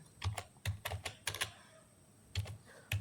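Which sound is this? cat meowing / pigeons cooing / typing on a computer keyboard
typing on a computer keyboard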